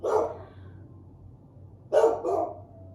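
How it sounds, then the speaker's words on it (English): A dog barks nearby, two short separate bursts of barking with a quiet pause between them, heard on its own in an indoor room. "the dog started barking just now"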